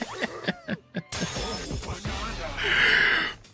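Objects shattering and breaking apart in a video game where everything can be smashed, a run of sharp crashes and debris clatter with a bright, sustained burst of breaking near the end; no speech.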